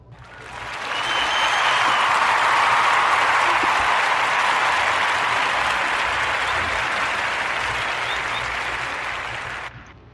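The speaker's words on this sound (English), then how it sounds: "I gotta clap it up for myself." Steady, dense applause fills the space for most of the ten seconds, rising quickly at the start and cutting off near the end, with no talk over it.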